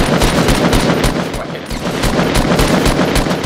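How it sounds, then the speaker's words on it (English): Rapid automatic gunfire from the video game Fortnite rattles in loud, continuous bursts with a steady rhythmic pulse, close and dominant throughout. "I can't even see where I'm shooting, to be fair."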